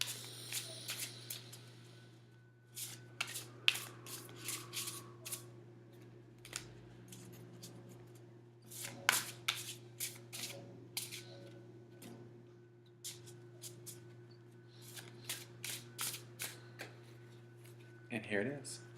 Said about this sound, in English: I'm going to shuffle this deck right now